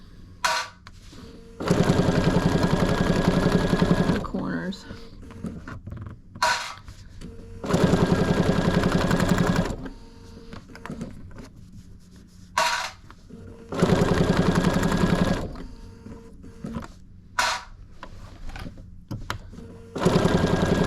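A Bernina 770 sewing machine with dual feed and binding feet stitches quilt binding in four long, loud bursts of rapid whirring. Short pauses and brief handling noises separate the runs.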